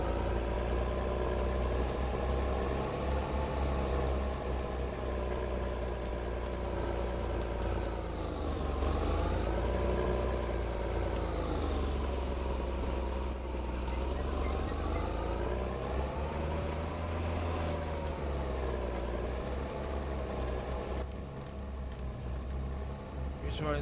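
Constant throaty rumble of a John Deere tractor engine with an open exhaust in a video game mod, revving slowly up and down across the stretch as it works the field, loud and continuous with no talk.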